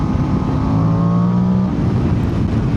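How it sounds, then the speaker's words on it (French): A Voge DS800 X Rally motorcycle engine drones steadily under acceleration, a continuous loud mechanical hum with shifting harmonic tones, close to the rider and without talk. "Ah mais le son du moteur, il est vraiment top. Dès que tu accélères un peu"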